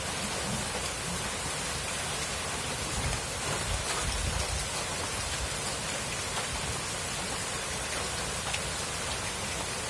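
Heavy typhoon rain pours steadily as a dense, loud hiss of drops on surfaces, with a few deeper thumps early on and no voices.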